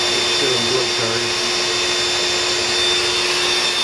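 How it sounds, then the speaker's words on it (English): A vacuum cleaner powered by an inverter in an off-grid shed, running from 26.6 volts DC, gives a loud, steady whining roar with a constant motor tone for the whole stretch, with no pauses or talking. "Now that the vacuum cleaner's on."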